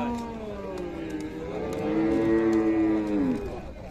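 At a cattle fair in Buíque, Pernambuco, a nearby cow lets out one long, loud moo that swells and bends in pitch before trailing off, over a low background of crowd noise.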